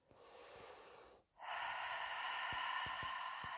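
A long exhaled breath during a beginner Pilates exercise, a soft airy rush heard close and quiet, with a brief pause and a second, stronger steady exhale following.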